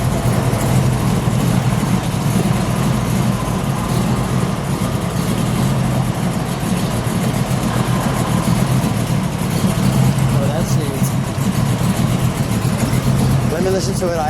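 A 1935 Hudson Terraplane custom restomod idles steadily and loud throughout, a continuous low engine rumble with no revving, while people talk over it.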